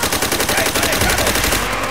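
Japanese machine gun fire in the Call of Duty: World at War video game: a loud, continuous rapid burst of automatic shots with no pauses, close and dominant.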